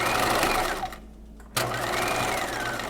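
A sewing machine stitches a keyhole bodice with a steady, close mechanical whir. It pauses briefly partway through, then starts up again at full speed.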